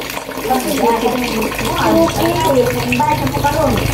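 Water runs steadily from a tap in a home, a constant close rush of flow while people talk over it.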